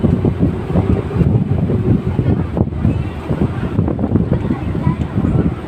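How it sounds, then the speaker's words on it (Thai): Strong wind buffets the microphone on a river ferry crossing the Chao Phraya, a loud continuous rumbling roar throughout, with boat and water noise mixed beneath it. "ลมพัดรมนี้ดูว่ากระแสลมนั้นแรงขนาดไหน"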